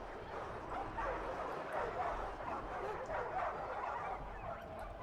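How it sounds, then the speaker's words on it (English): War dogs in Total War Arena barking, yipping and whimpering in a busy battle scene, a cluster of repeated canine calls over game noise with faint background talk. "I'm going to unleash my dogs and try and target their dogs."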